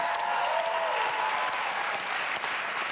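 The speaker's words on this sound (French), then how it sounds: "on vous applaudit" A studio audience at a French television show applauds steadily, a dense wash of clapping that holds even and fairly loud throughout.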